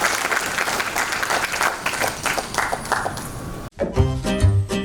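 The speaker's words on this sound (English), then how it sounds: "Come on everybody, put your hands together and give them a round of applause" Audience applause for guests at an awards ceremony, a sustained wash of clapping from a crowd that cuts off abruptly near the end and gives way to music.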